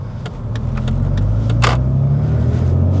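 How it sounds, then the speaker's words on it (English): BMW E46 330Ci with a straight-six petrol engine rolling slowly round a roundabout, a steady low engine rumble heard from inside the car, with a few faint clicks and a brief whoosh partway through. "this is a straight 6 petrol car. It's the slowest going round a roundabout"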